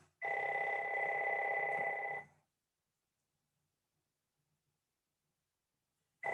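A mobile phone rings with an incoming call: one loud, steady electronic ring lasting about two seconds, then near silence, with another ring just starting at the very end.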